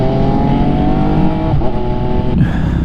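An MV Agusta motorcycle engine revving loudly and close, a dense harmonic roar with quick pitch shifts and brief blips over about three seconds.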